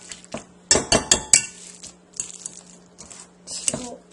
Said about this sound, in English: this is a potato masher. And you don't have to mash it finely, but you need to mash it